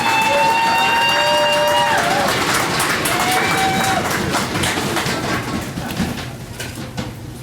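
Audience applause and cheering greet a speaker coming to the podium at an Alberta Sport Connection awards event for the 2018 Alberta Winter Games, with loud sustained clapping and whistles that slowly fade.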